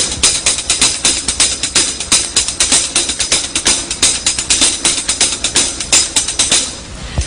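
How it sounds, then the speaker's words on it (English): Drumsticks on a hi-hat play a steady, fast paradiddle sticking with accented strokes, crisp, close and continuous, with no talking. "I'll play it on the hi-hat"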